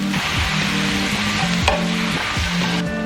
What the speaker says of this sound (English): I just added a ton of spinach, and I'm going to cook that until it is wilted